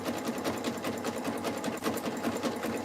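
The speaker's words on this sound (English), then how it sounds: "we're sewing a jelly roll fabric rug" A sewing machine stitches a jelly roll fabric rug, its needle running in a steady, rapid mechanical patter throughout at close range, alone without any talking.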